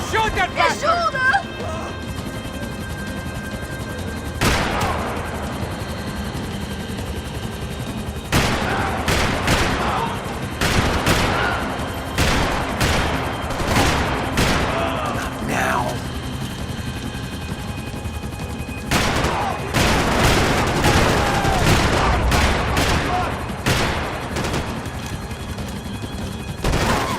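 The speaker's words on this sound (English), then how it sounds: "Max, shoot that bastard!" Gunfire bursts in Max Payne 3 during a helicopter chase, loud sharp shots in clusters over a constant rotor drone, with shouted dialogue between volleys.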